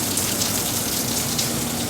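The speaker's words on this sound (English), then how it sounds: "I don't want to get in the rain too much" Steady rain from a tropical storm falls close by, a dense continuous patter on surfaces near a pool and concrete, with no voices.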